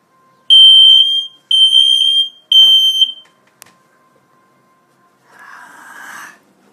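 Three loud, piercing smoke alarm beeps, each about a second long with short gaps, sound during a weekly test of a smoke alarm and carbon monoxide alarm, followed by a brief click and a faint hiss near the end.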